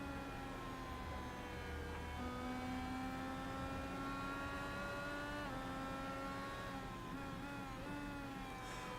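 IndyCar race cars at Watkins Glen in a racing video game, several high-pitched engines whining and shifting gears together in a close pack, steady and continuous with no voices.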